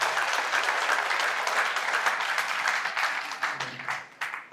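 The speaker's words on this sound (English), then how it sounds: "Team 2, won't you clap for him?" An audience applauds a speaker at a campus event, steady dense clapping from many hands that thins into a few scattered claps toward the end.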